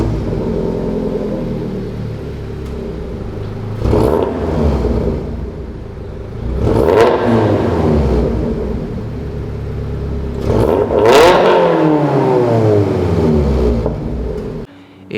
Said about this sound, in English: the exhaust that I'm running is the AWE Touring Catback exhaust